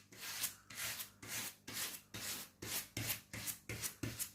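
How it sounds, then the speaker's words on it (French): A brush scrubs steadily across a diamond painting canvas in about nine even, rhythmic rasping strokes, close and alone. "je vais brosser la toile"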